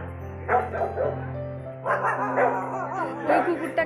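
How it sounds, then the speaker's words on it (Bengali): Street dogs in a market bark and yip in short bursts at a pet dog, close by, with whimpering tones between the barks over a low background hum. "আর সেটা দেখে রাস্তার কুকুরগুলো ঘেউ ঘেউ করে ঢেকে যাচ্ছে।"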